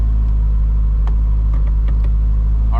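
A JDM Honda Civic EF2 driving on the street, heard as a loud, steady low engine rumble from close by, with a few faint clicks and rattles over it.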